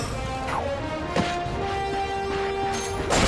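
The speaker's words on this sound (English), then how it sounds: "Look at him smashing crates." A few sharp smashing cracks of breaking crates in the video game Ratchet and Clank ring out over a steady game soundscape with a sustained musical tone.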